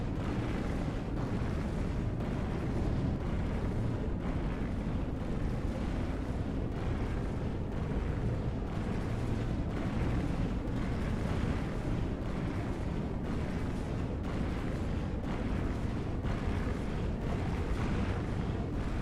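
Flak cannons on a ship in Empyrion Galactic Survival fire in a dense, continuous barrage of booming bursts, loud and close, running for the whole stretch with no talk over it.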